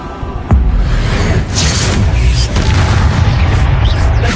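Confringo fire spells in the Hogwarts Legacy video game burst out as a sharp, loud boom, then a sustained roaring rumble of blasts and debris fills the rest of the stretch, close and dense with no voices.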